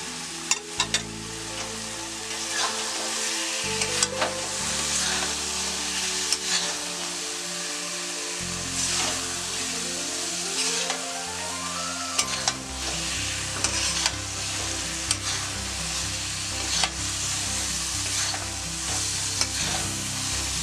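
Kerala-style egg roast masala frying in a pan, a steady loud sizzle running throughout with repeated scraping and stirring strokes, no talk.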